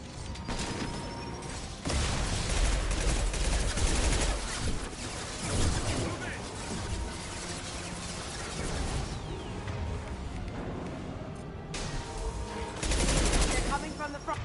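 Incendiary-ammo gunfire in the Mass Effect video game: loud bursts of rapid automatic shots and heavy impacts come in waves, with short quieter gaps between volleys.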